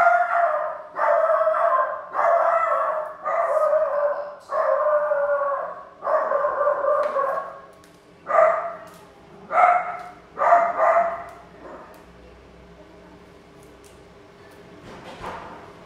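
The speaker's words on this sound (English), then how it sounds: "I can't really stop her from barking." A pet dog in a home barks and howls in a long run of drawn-out, wailing yelps, about a dozen repeated calls close and loud, fading to sparser barks and a quiet tail with one last faint yip.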